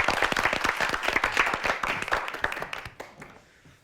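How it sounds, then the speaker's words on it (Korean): Audience applause in a hall welcoming a high school debater at a televised Korean debate competition, steady dense clapping that tapers off toward the end. "박수로 환영해 주시죠."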